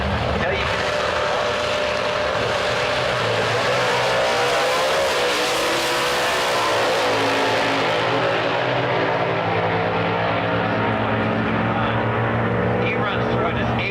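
A Hemi drag race car makes a pass at MATS 2009, its engine roaring loud and steady before fading away, with an announcer's voice underneath the noise.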